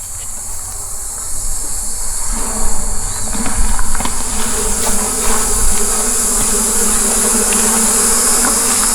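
Honeybees buzzing steadily at an open hive while frames are inspected and shaken, a dense continuous drone that swells slightly midway and stays loud throughout with no talking.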